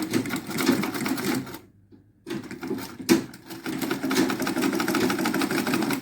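A sewing machine runs steadily while stitching fabric for a statement headband, a continuous mechanical whir that stops briefly partway through, then resumes loud and close.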